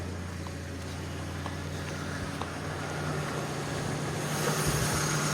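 A 2006–2007 Volkswagen Jetta 1.6 MPI 75 kW petrol engine idles with a steady, even hum and low mechanical drone, quiet and close, with no voices.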